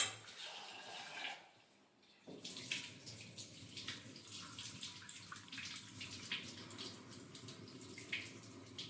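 Cut vegetables being washed under a running tap in a home kitchen, a steady splashing water flow with a brief pause, then faint clinks of a bowl or utensils.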